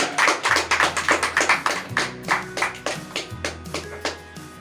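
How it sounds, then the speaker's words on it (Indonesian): Applause at an Indonesian association meeting of the DPD PCTAI East Java: a burst of quick, rhythmic hand claps from a group indoors, steady and fairly loud, tapering slightly toward the end over a low background hum. "Tepuk tangan ya"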